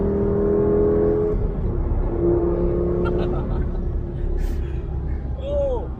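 A Lamborghini Gallardo engine pulls hard after a downshift, a loud, steady low drone with rising tonal whine through the run, heard from inside the car with a voice talking over it.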